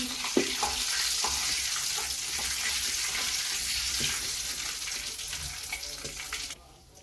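Cinnamon pieces, cloves and cardamom with cumin crackle in hot oil in a pan as they are stirred, a dense steady sizzle with a few spoon knocks that drops off sharply at the very end.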